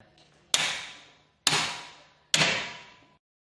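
Three sharp metallic hammer strikes from a large hammer on a spanner, tightening a Grundomat-P piercing tool, evenly spaced, each ringing briefly before fading, with no voices.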